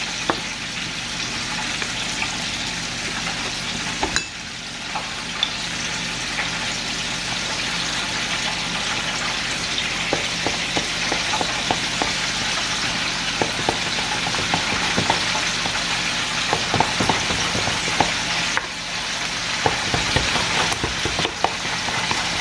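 A spoon stirs waffle batter mix in a bowl, giving a long run of close, wet scraping and clicking strokes over a steady background hiss.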